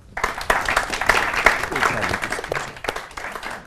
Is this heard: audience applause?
yes